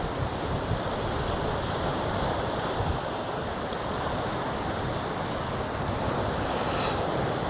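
Ocean waves roll onto the shore at sunrise in Hawaii, a steady, continuous wash of surf with light wind buffeting the microphone and no talking.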